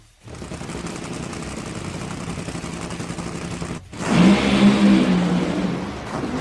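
An NHRA Funny Car, Jack Beckman's Chevrolet, roars loudly at a drag race with a harsh crackling engine drone, breaks off for an instant, then comes back even louder and rougher before easing slightly.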